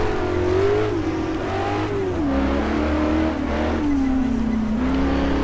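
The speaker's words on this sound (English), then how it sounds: "As you can hear the car squeaking." A race car engine in a video game of the 1954 Carrera Panamericana whines and squeals at a steady drone, its pitch sliding up and down as it revs, loud and continuous with no talking.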